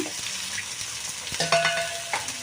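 Cut potatoes sizzling in a hot pan for chow mein, a close, steady frying hiss with a few stirring scrapes and small pops.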